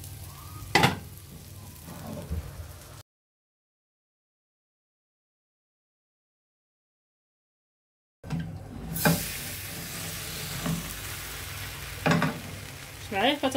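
A potato pie fries in a pan with a sizzle and occasional clanks. The sound runs in two stretches, split by several seconds of complete silence.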